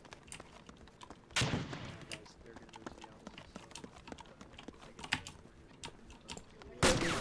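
Gunfire in the military shooter Arma II with the A.C.E. mod: two loud, sharp bursts stand out, one early and one near the end, over a busy bed of faint scattered pops and clicks.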